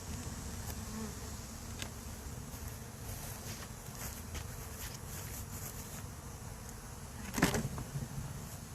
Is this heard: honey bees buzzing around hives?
yes